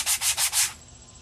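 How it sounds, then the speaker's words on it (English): Four quick strokes of a sanding block rubbing across paper, close and breathy like soft scraping, each pass rising and fading in a steady rhythm before falling silent. "We'll just use a new sanding block."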